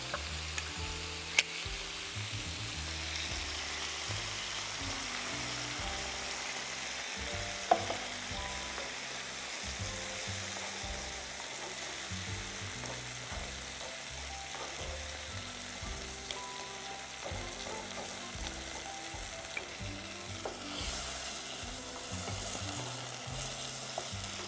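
Tomato sauce with meat for lasagne frying in a pan, with red pepper and turmeric going in. Steady close sizzling with scraping stir sounds throughout and no talking.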